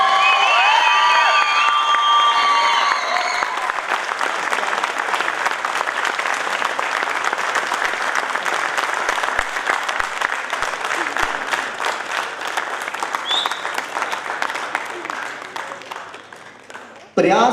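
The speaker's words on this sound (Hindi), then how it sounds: "जोरदार तालियां दिलशाद के लिए।" Audience applause at a comedy theatre play: loud sustained clapping with some cheering fills the hall, tapering gradually over many seconds, with an announcer's voice heard at the start and end.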